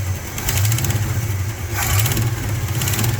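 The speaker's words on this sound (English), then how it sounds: "This thing went from not starting to like just barely running and sounding pretty much like garbage." A Chevy V8 with a faulty ignition barely runs, its rough, uneven engine note loud and close, with a steady low rumble and irregular surges throughout.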